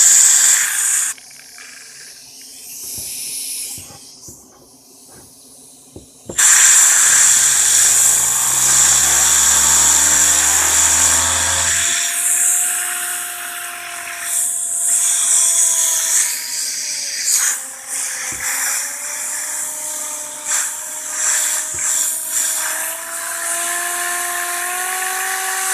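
Small Tesla turbine with a 2-inch disc in a roughly 3-inch body, spun by compressed air at about 20 psi: a loud, piercing high whine with hissing air that dips, slides through changing pitch, then spins back up and holds steady.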